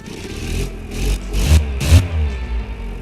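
A turbocharged inline-three engine revving hard toward 12,000 RPM, heard as several loud, close pulses of rising engine roar with a steady low drone between them and no talk.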